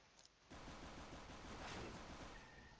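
Pistol gunfire in a CS:GO esports match breaks in after a brief quiet opening and continues as dense, loud overlapping shots and game noise for the rest of the clip.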